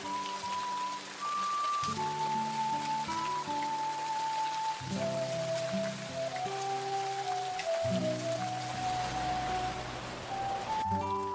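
Light rain patters steadily in an animated anime scene, a soft continuous hiss sitting beneath loud, stepwise background music throughout.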